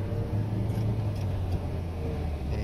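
A car engine on a driving lesson holds a steady, loud mid-range drone with road rumble throughout, rising slightly under acceleration before the shift to second gear, heard from inside the cabin with no talk.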